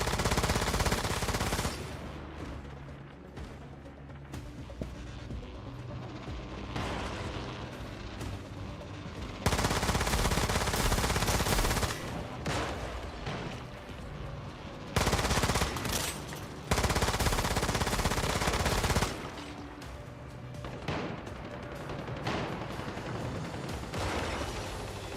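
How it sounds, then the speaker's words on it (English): Rapid bursts of automatic gunfire aimed at a generator in the video game Once Human, loud repeated volleys with short lulls between them and no talking. "You grab the ice and you throw it at the shield. Then you shoot the generator."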